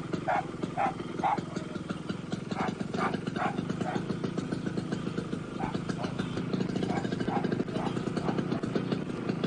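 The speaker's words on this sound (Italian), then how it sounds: "l'arrivo del postino è segnato dall'abbaiare indispettito dei cani" Dogs bark at a postman arriving along a canal in Thonburi, Bangkok, giving short bursts of yapping in irregular clusters over a steady engine drone.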